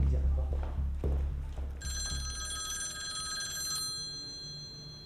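A telephone rings in a bright electronic tone partway through, sounding steadily for about two seconds after some faint bumps and background movement.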